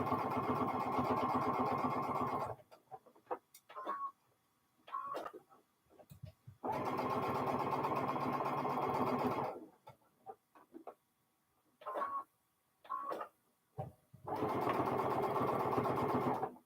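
A home sewing machine stitches fabric coasters in three long steady runs, with pauses between them holding small clicks and handling noises up close.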